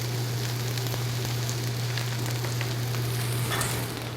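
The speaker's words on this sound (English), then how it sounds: "these onions are caramelizing" Onions caramelizing in a pan give a dense, continuous close sizzle with faint crackles and a steady low hum beneath, no talking.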